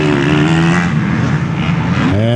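Motocross dirt bikes in a B class race heading down toward the finish line turn, their engines droning loud and close, with a whining rev that drops and then climbs again near the end.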